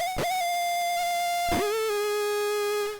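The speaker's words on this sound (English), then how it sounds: "It sounds like a big distortion." A bright, buzzy synthesized tone through a Cubase 9 bit-reduction distortion effect, with harsh, gritty harmonics, shifting pitch twice after short noisy bursts, sustained and steady in level.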